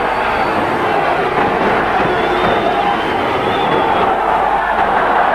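A cricket crowd cheers Saeed Anwar's century in a Pakistan versus West Indies match, a loud, sustained roar of applause and cheering from a large stadium audience with no break.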